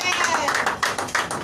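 A church congregation claps their hands together in quick, rhythmic bursts during a lively worship service, the claps close and loud and woven with voices.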